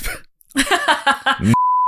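Voices speak in quick bursts, then a sharp, pure censor beep cuts in and holds as a steady tone to the end.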